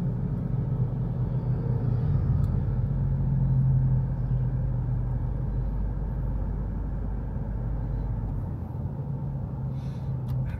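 Steady road traffic rumbles along MacArthur Highway, a continuous low car and engine drone with passing vehicles blending into one another, moderately loud throughout and with no voices.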